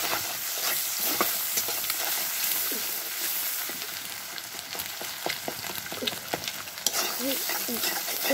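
Egg and chopped onion frying in a hot pan, a steady close sizzle with scattered stirring scrapes and clicks running throughout, no voices.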